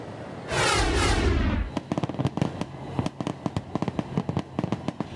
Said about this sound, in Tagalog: Isang engrandeng fireworks display